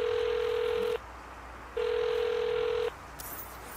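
Phone call being placed in the Saints Row video game on PS5: two long steady ringback tones separated by a short gap, fairly faint, then a brief click as the line picks up, with no talk.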